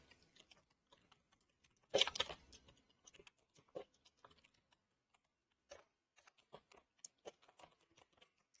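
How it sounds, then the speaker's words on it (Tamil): Keys clatter on a computer keyboard as content is typed into HTML code, sparse irregular clicks with a dense burst near the start, quiet and close with no talking. "இப்போ இதில் ஏதாச்சும் ஒரு கண்டென்ட் வந்து டைப் பண்ணிக்கிறோம்."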